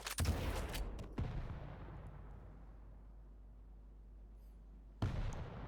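Rocket launcher firing and exploding in the fast-paced arena shooter Quake, a loud burst at the start with a second thump about a second later, a long decaying rumble, then another sharp blast near the end.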